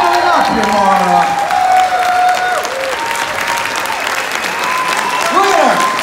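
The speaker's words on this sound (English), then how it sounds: "Give this woman the applause she deserves." A live audience applauds a new champion at a Schmoedown Live event: loud, sustained clapping and cheering fill the hall, with a voice calling out over the crowd.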